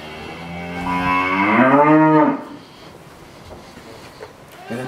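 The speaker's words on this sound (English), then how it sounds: "These are the milking cows on this side." Dairy cows in a milking herd on a farm in Zambia; one loud, close moo rises and swells for about two seconds, then fades into quiet farmyard background.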